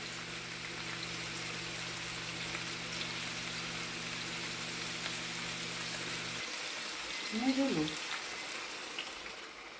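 Potatoes frying in a pan give a steady soft sizzle throughout, with a low hum in the first part that drops away and a brief voice near the end.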